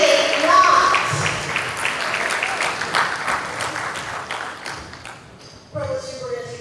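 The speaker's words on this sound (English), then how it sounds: "deserve the greatest round of applause with the utmost respect" An audience at a university faculty institute applauds the support team with a steady wash of clapping that gradually fades, then a brief renewed burst with some voices near the end.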